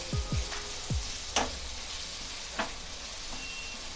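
Vegetables seasoned with black pepper and salt sauté in a pan with a soft, steady sizzle, punctuated by a few clinks and scrapes of a spatula against the pan, fairly quiet and without speech.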